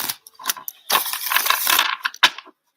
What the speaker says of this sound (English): Let me give it a better shuffle here.